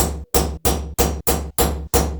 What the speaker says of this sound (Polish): Wezmę sobie w tym przypadku trochę lżejszy młoteczek, ale żeby móc to wszystko kontrolować.